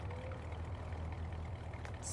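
A grain truck engine on a family farm gives a faint, steady low rumble, idling evenly throughout with no other clear sounds.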